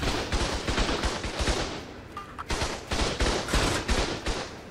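Rapid automatic turret gunfire in the video game Ark rattles in dense, loud bursts, pausing briefly midway before resuming with a steady stream of shots.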